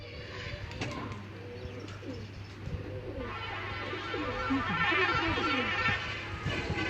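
Breeder pigeons coo in a loft, soft repeated calls under a steady low hum, with occasional chirps and a few other birds nearby; no talk.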